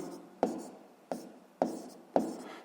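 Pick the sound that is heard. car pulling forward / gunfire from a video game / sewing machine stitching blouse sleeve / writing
writing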